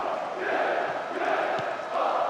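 Stadium crowd in the PES 2010 football game, Roma at home to Lazio in Serie A, giving the teams a partisan welcome as a steady, dense roar of cheering that holds without a break.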